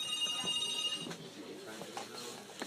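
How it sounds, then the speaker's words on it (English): A telephone rings with a repeating electronic tone indoors, heard mid-ring and then stopping as people talk nearby. "Your phone is ringing."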